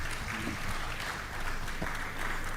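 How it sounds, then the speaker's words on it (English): Audience applause at a live awards ceremony, a steady dense patter of clapping from a crowd that holds at an even level for the whole stretch. "A round of applause for him as he goes up."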